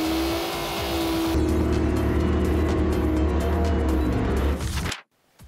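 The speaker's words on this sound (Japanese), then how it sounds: "さあいよいよですね、ドラッグレースが、始まりまして" A Nissan Fairlady Z fitted with an L28 head at a drag race: a loud, sustained engine note rises and holds as the car launches and pulls hard, then cuts off abruptly near the end.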